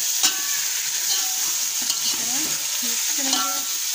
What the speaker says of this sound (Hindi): मैंने इसे प्याज डाल दिया है, तो थोड़ा फ्राई करेंगे